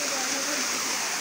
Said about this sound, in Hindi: यह है कुछ छोटा सा वाटरफॉल जो कि आप देख रहे हो मेरे पीछे